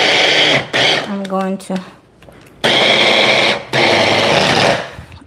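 A kitchen food processor minces onions in loud, close whirring bursts that start and stop abruptly, with a short spoken phrase in one of the pauses between bursts.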